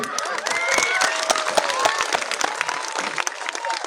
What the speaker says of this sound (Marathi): एकदा जोरदार आयोजन कमिटीसाठी टाळ्या वाजवा.